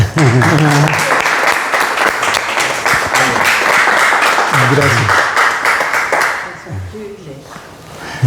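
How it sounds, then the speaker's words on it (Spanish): Audience applause after a speaker's thanks at a Mother's Day event, a dense steady clatter of many hands with voices talking over it, thinning toward the end. "Un aplauso, es una costumbre"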